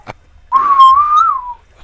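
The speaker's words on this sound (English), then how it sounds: "can we stop whistling?" A single clear whistled note, held for about a second with a slight rise and fall in pitch, sounds close and loud in an Ark Survival Evolved game session after a short click.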